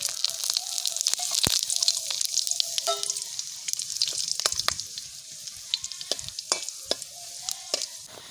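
Bay leaf, dried chilli, whole garam masala and cumin seeds sizzle in hot oil for a mutton curry, with crackling pops and spoon clinks over a soft fizz, no talking.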